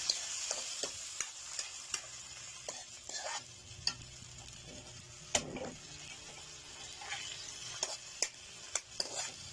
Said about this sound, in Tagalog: Yan, haluin natin.